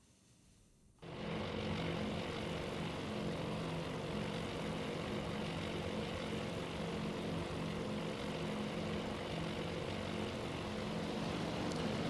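Propeller engines of torpedo bomber aircraft in the naval strategy game Task Force Admiral, set at the Battle of Midway, starting after a second of quiet and then holding a loud, steady, droning roar with no one speaking.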